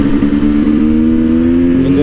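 A KTM 300 EXC two-stroke dirt bike engine on the road gives a loud, steady buzzing drone that climbs slightly in pitch near the end of the ride.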